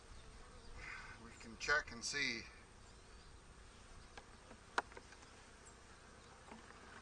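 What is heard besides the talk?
honey bees buzzing in an opened hive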